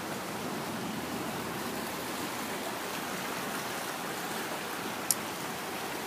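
Stream flowing along a wooded trail, a steady, soft broadband rush of water continuing throughout with a tiny click near the end.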